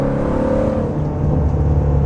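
A 2020 Shelby GT350's engine drones steadily under highway cruising, heard from inside the cabin with the windows up as a loud, low, continuous hum mixed with road noise.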